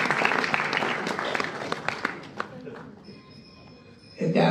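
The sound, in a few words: audience applause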